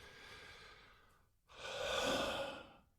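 Slow, deep breathing: a long, soft airy exhale fades out, a brief pause follows, then a fuller, louder breath swells and tapers, close and intimate with no talking.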